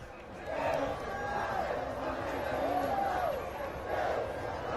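A large crowd of protesters in Brazil roars in news footage, a dense, steady wash of many voices with rising chant-like swells, loud and continuous throughout.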